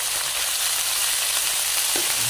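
Pako fern greens frying in a pan give off a loud, close, continuous sizzle, with a faint stirring scrape near the end.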